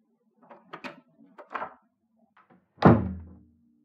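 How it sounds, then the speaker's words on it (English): A front door closes with a solid, close thunk, preceded by a few soft footsteps and handle sounds in an otherwise quiet room. "Was that the front door?"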